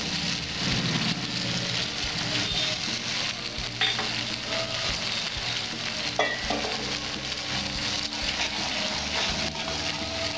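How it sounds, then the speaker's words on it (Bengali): Tomato puree hits frying masala for a Bengali lentil-dumpling curry, a loud, dense sizzle and spatter that runs continuously, with stirring scrapes mixed in, close up and without talk. "টমেটো পিউরিটা দিয়ে দেবো।"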